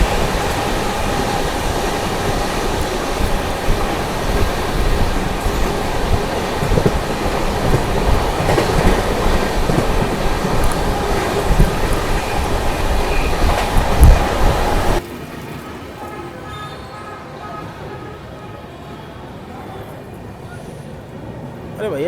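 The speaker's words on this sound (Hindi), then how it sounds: "चलिए इस ट्रेन का जो है ना ओवरटेक देखते हैं" An express train overtaking at 120-130 km/h near Vrindavan Road in the Mathura division, India, roars past with loud rushing rumble and rail clatter for about fifteen seconds, then drops to a quieter steady hum with faint voices underneath.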